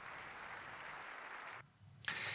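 Ovation in the German parliament for the Ukrainian president, a steady wash of applause that drops out briefly near the end before resuming.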